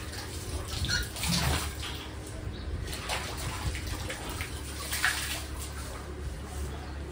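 Splashing water as a child plays in a small home-made swimming pool, steady broadband sloshing with a few louder bursts and faint birds in the background.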